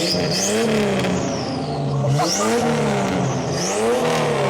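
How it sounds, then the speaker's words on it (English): A turbocharged Jeep Wrangler with a custom-built exhaust revs hard three times in quick succession, loud and close, each rise in engine pitch topped by a whistling turbo spool and a falling whoosh. "you weren't kidding about it still having all of its turbo noises"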